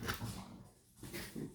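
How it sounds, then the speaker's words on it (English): A dog out in the back yard gives a few faint, short barks and whimpers, heard from a distance in a quiet room. "And that is my dog in the back outside."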